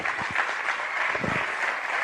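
Audience applause at a business leadership event, steady close clapping filling the short stretch without a break.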